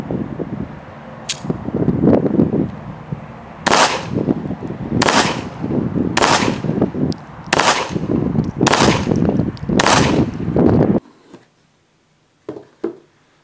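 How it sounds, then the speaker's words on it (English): A Remington RM 380 semi-automatic pistol, a double-action-only .380 concealed carry handgun, fires a string of about seven sharp shots at an uneven pace over steady background noise, ending in near silence with a couple of faint knocks. "This is the Remington Rm 380 semi-automatic pistol."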